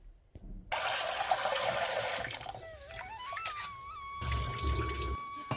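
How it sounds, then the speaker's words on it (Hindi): Masoor lentils are rinsed under a running kitchen tap, a loud gush of water filling a vessel with sloshing, a brief whistling squeak from the faucet, then another burst of flow. "1 या 2 पानी में इसको धो लूंगी"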